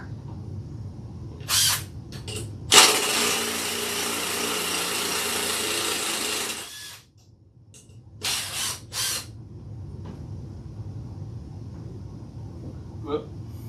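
Ratchet wrench clicking steadily as two screws are backed out, a loud continuous burst of mechanical ratcheting followed by a few shorter bursts, close up with a voice heard around it.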